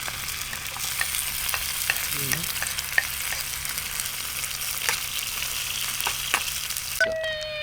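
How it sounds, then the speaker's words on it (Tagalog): Garlic sautéing in its own fat over an outdoor fire, a steady crackling sizzle with frequent scraping stirs and occasional clinks, close and continuous, with no talking. "So gigisayin natin siya gamit ang sarili niyang mantika."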